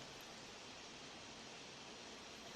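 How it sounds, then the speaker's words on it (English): Very faint, steady broadband rush of a waterfall cascading in the background at a golf course during the final round of a professional women's tournament, continuous and even with no distinct events. "with the sound of that waterfall cascading in the background."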